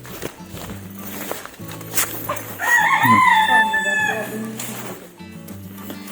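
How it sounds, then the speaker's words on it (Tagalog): Free-range chickens on a farm cluck and mutter close by, and a rooster lets out one clear, loud crow in the middle, with faint footsteps and background sounds. "Yung mga free range chicken na ano din. Yung mga breed."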